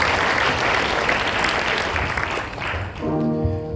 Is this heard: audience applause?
yes